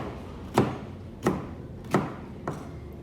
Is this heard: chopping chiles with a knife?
yes